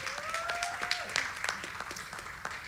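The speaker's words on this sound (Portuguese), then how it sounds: "quero que vocês aplaudam o João Pedro Camacho" Audience applause rises at a Christian fiction and audiovisual panel talk, a quick dense patter of claps mixed with a whistle and crowd voices, moderately loud throughout.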